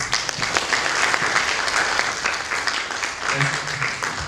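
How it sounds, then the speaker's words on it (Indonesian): Audience applause at a seminar and book launch on Reog Ponorogo performance, steady, dense clapping filling the room for several seconds, with a voice briefly heard near the end. "Tepuk tangan buat Mas Mono."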